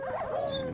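A brief, faint whine and yip from dogs in a Minecraft game, one drawn-out whimpering cry heard alone.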